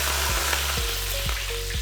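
Hot oil meets a peanut and puffed rice masala in a village kitchen, giving a loud, dense sizzle with regular dull thumps about twice a second.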